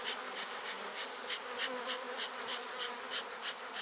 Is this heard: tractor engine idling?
no